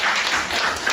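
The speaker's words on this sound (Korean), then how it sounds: "박수 한번 쳐주세요." Applause from an audience at a business presentation on inviting people through a free app, a steady dense wash of clapping filling the whole short moment with no voice on top.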